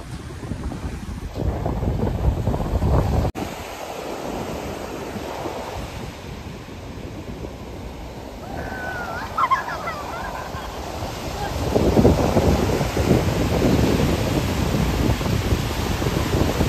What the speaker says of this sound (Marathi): आणि हा साईडला हा समुद्र आहे